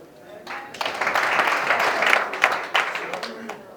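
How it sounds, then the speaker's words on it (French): At an awards gala, audience applause swells quickly after a short lull and holds as a dense, moderately loud wash of clapping that tapers near the end, with voices mixed in. "cette famille mérite une bonne main d'acclamation"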